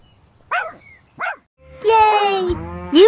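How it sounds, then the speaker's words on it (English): A dog gives two short, sharp barks, followed by longer, drawn-out tonal yelps, close and loud with nothing else behind them. "This is a dog. It says woof,"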